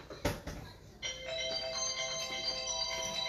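A mobile phone rings indoors with a steady electronic ringtone that starts after a couple of soft knocks and keeps going at low, moderate loudness with no speech.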